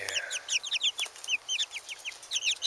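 Backyard coop hens clucking and chirping in quick, overlapping bursts, close and fairly loud throughout with no voices.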